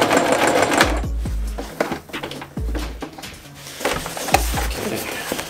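Short bursts of a sewing machine stitching a sailcloth bag, three runs of rapid mechanical thumping, each ending in a clunk, with quiet handling noise in between.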